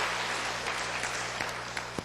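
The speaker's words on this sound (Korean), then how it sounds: "박수 치고 50명." Steady applause from a church congregation during a Sunday afternoon evangelism testimony service, a continuous even wash of clapping with a few sharper individual claps standing out near the end.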